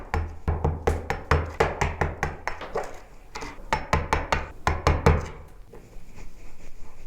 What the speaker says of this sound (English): we're just going to give it a few taps and tap around that area just to expose the screws